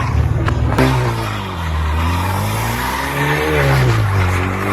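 A Ford Focus RS doing donuts in drift mode, its engine revving up and down in rising and falling sweeps, with tire noise close by after an opening burst of revs.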